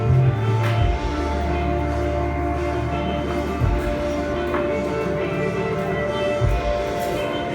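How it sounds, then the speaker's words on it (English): Electric guitar run through a Whammy pedal, pitch-shifted into octaves and harmonies, sustaining steady layered tones with a few pitch swoops and low re-attacks, played loud and alone. "It basically pitch shifts my guitar into different octaves, and it can do harmonies too."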